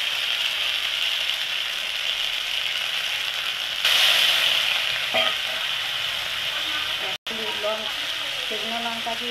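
Dried red chilli, ginger and spices sizzle and fry steadily in hot oil in a pan, a continuous close crackle with brief stirring scrapes partway through.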